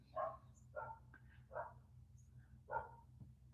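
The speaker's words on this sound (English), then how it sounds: "My neighbor's dog's barking out of control." A neighbour's dog barking outdoors, four separate barks spaced about a second apart, fairly distant and faint over a steady low hum.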